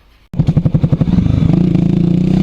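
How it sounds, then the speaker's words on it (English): Black Honda CB400SS motorcycle with an aftermarket exhaust starts up close and pulls away, its loud, throaty exhaust pulsing in rapid beats before smoothing into a steady drone as it accelerates. "we're away on the Honda CB400SS in black with the aftermarket exhaust"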